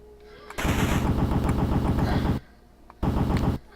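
Rapid synthesized gunfire from the NES game The Punisher comes in two loud bursts of automatic fire with a short pause between them, over quieter game sounds.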